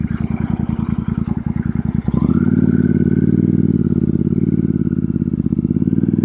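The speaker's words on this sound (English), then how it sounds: "This bike in stock form, it's a 650 parallel twin" Royal Enfield Super Meteor 650 parallel twin with belt drive: a steady idle thump, then the engine rises into a loud, smooth continuous drone as the bike pulls away, close up.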